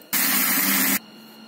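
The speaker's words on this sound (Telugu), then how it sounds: "ఇప్పుడు మిక్సీకి వేద్దాం." A mixer grinder whirs loud and close in a single burst of just under a second while it grinds red gram chutney with coconut, then stops and leaves a quiet room hum.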